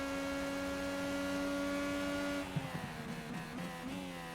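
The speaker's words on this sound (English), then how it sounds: "You can kind of hear with the engine. Alex Jones a little bit late on the shifting, it sounds like." A racing video game IndyCar at Mid-Ohio holds a steady, fairly faint engine whine, then drops pitch abruptly as it shifts gears and carries on at a rougher, lower tone.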